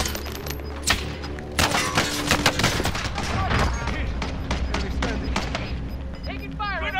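Rapid gunfire crackles through a multiplayer video game firefight, with dense bursts of shots and impacts up close and loud, while voices call out over the shooting.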